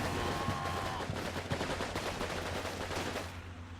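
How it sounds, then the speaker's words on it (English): Gunfire in the WWII video game Combat Mission: Red Thunder, a fairly faint, rapid string of overlapping shots and bursts under a low, steady hum. "They haven't spotted who's firing at them yet."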